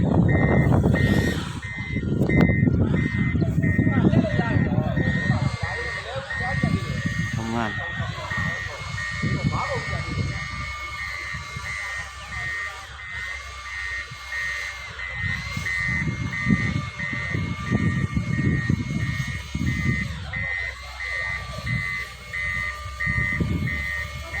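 A motor grader reversing while levelling a road, its backup alarm beeping in an even, rapid rhythm over a loud rumbling diesel engine, with people talking over it.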